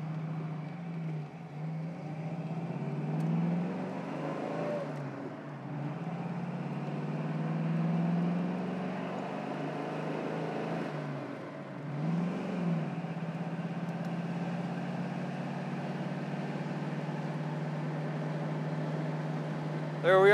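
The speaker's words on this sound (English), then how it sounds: "The exhaust does have a nice little throaty sound to it as well" A 1972 Ford Mustang convertible drives along with its throaty exhaust and engine making a steady low rumble that rises and falls slightly as it shifts, close by, while someone talks over it for most of the time.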